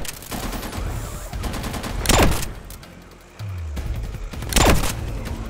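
Gunfire in Call of Duty Advanced Warfare during a firefight, heavy fusillade with two loud bursts over continuous battle noise and a low rumble.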